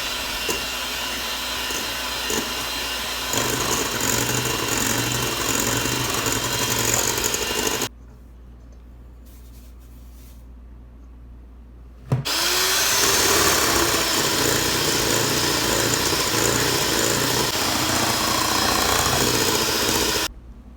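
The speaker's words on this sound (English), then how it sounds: "We're adding half of our sugar, beating for about a minute, then adding the other half." An electric mixer beats egg whites with cream of tartar and sugar for a mini cotton cheesecake. Its loud, steady whirring motor drone cuts out for about four seconds, then starts again at full strength, with no speech.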